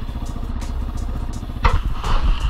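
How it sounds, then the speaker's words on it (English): A Kawasaki KLX140 dirt bike is ridden nearby, its engine giving a low, pulsing rumble that swells with a rev partway through. "First time riding on a dirt bike"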